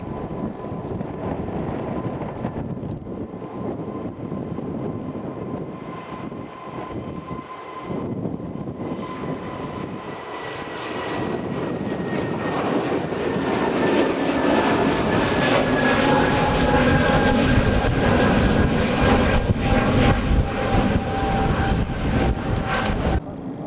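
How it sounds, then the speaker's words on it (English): A Scandinavian Airlines Airbus A320neo passes at Manchester Airport as a continuous, broad jet engine roar that swells louder over about twenty seconds, with a faint high whine running through it. "just coming into view now is a Scandinavian Airbus A320 Neo that's going"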